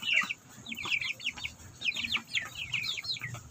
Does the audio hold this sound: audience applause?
no